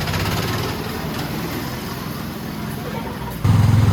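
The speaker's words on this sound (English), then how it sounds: "we are off riding an old-fashioned Model T Ford, also known as a Tin Lizzie" Old-fashioned Model T Ford Tin Lizzie ride car at Kentucky Kingdom amusement park, its engine running steadily with a low rumble that swells louder near the end, with crowd and park noise around it.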